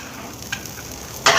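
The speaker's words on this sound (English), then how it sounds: "We'll throw a little bit of avocado oil on there." Lobster tails hit hot avocado oil in a pan, giving a steady close sizzle that flares into a much louder, harsher burst of frying near the end.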